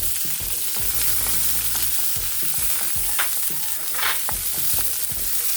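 Onions frying and sizzling in a pan while being stirred, for sinigang na salmon, a steady close crackle with scraping stir strokes and no talk.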